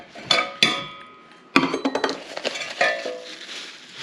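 A small metal solo wood stove is handled, giving several sharp metallic clinks and clanks at uneven intervals, with a clustered rattle of lighter taps in the middle, all close and fairly loud.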